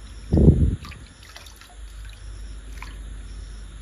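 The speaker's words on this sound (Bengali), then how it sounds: "এটা জল ভরে দেবো।" Water poured into a container while making petha sweets from ash gourd, a short loud gush lasting under half a second, followed by faint drips and trickles.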